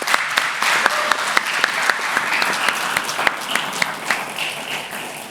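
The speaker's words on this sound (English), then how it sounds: "Let's give a round of applause." A live audience bursts into applause, many hands clapping at moderate volume with individual sharp claps standing out near the front throughout.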